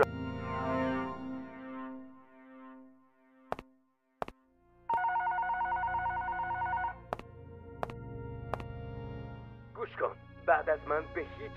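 Electronic telephone ringing inside the horror video game The Callers, a steady repeating ring pattern lasting about two seconds, with clicks before it and a voice talking around it.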